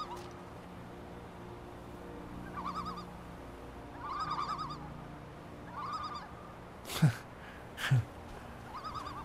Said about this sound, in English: Hello, little birds.